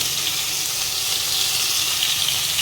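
Black cumin and bay leaf tempering in hot oil as ginger and garlic pastes are added, giving a steady, loud, bright hiss of frying that holds evenly throughout without pauses or voices.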